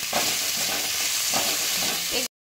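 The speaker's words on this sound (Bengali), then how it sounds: "রোস্ট করা মানে ভেজে নেওয়া হয়ে গেছে" Green and red chillies roast with poppy seeds in a pan, producing a steady sizzle broken by soft, recurring scrapes of stirring.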